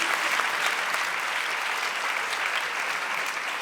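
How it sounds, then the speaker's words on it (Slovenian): An audience at a closing ceremony for a competition applauds parents and mentors, with steady, dense clapping that fills the hall at full volume for the whole stretch. "en aplavz za starše in mentorje potem takem"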